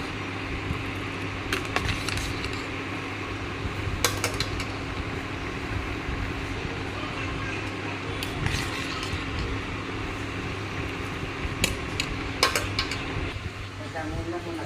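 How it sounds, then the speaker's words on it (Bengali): Cooked bamboo rice is tipped out of a metal pot, with repeated clanks and scrapes of pot and utensil against a continuous hum, the louder knocks spaced irregularly throughout. "ফুটে গেছে এখন নামিয়ে নিই ভাতটা ঢেলে নেব"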